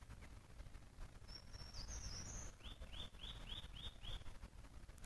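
Birds chirping outdoors in nature, a thin high trill followed by a run of about six quick repeated chirps, faint over a low rumbling background.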